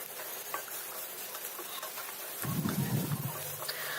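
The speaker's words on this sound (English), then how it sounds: "I'm going to heat 1 tablespoon of oil in a pan and I'm going to add the onions and fry them till they're nice and translucent." Onions frying in a tablespoon of oil in a pan, giving a faint, steady crackling sizzle that grows denser and louder partway through.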